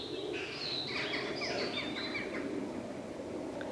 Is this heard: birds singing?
yes